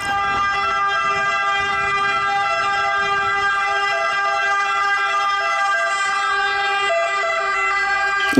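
Toy ambulance siren sounding a steady, tinny electronic wail, loud and close, running unbroken without talk over it.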